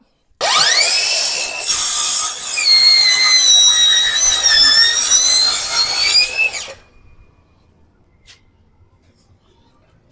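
A loud, whining Tanzu TZ C 5050 7-inch brushless cordless circular saw cuts wood steadily for several seconds, its pitch sagging and recovering under load, then stops, leaving near silence with a faint click.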